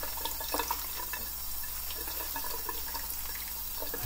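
Water runs steadily down a kitchen sink drain while kimchi is being prepared, a continuous soft rushing and trickling wash that holds even throughout with small splashy flickers and no voice over it.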